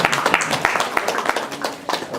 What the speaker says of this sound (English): Can we have another big round of applause,